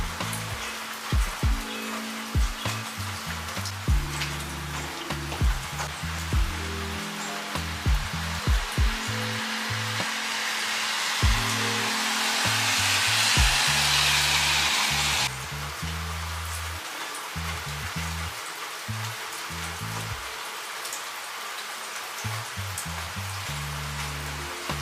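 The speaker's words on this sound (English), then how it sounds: "enjoy the sound of the rain while I write" Steady rain falling outside a large window on a gloomy day, a continuous soft hiss with scattered drips and taps, briefly swelling louder in the middle, with no one speaking.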